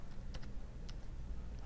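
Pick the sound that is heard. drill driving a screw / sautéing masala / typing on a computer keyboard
typing on a computer keyboard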